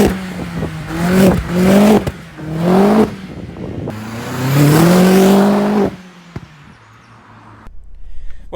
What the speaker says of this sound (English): just so you can hear the exhaust noise.